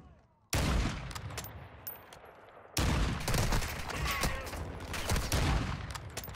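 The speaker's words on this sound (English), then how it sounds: "Guys are shooting me through a wall." Gunshots fired through a wall in the Warzone video game come as two sudden, loud bursts of rapid automatic fire. After a brief quiet start, the shots rattle on closely with sharp individual cracks.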